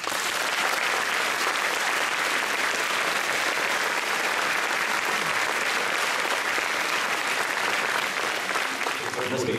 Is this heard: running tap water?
no